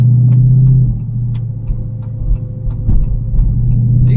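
A naturally aspirated car engine rumbles deep and steady from inside the cabin while riding, a loud low drone that swells slightly a few times.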